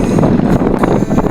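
Strong wind at sea beside a small boat on a spearfishing outing buffets the microphone with a loud, continuous roaring rush, without a break for the whole brief moment.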